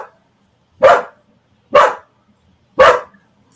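Three single barks from a dog, evenly spaced about a second apart, loud and close in an otherwise quiet room with no talk.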